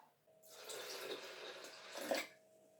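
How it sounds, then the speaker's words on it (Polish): Water poured over unroasted buckwheat groats, likely into a blender jug, a steady splashing pour lasting about two seconds and swelling briefly near the end before cutting off. "Do tego dolewam wody."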